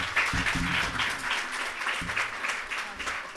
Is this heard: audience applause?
yes